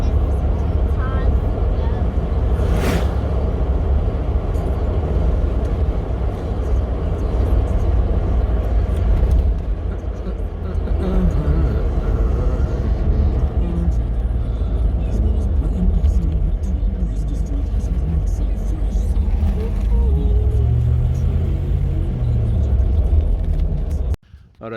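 A 1975 Volkswagen Beetle idles steadily with a low continuous rumble after fresh fuel and fuel additive go in, the engine note loud and close throughout, briefly cut at the very end; someone talks nearby.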